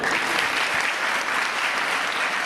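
Loud, dense applause from a crowd welcoming a guest MPA at a Palm Sunday celebration in Martinpur, steady and sustained throughout.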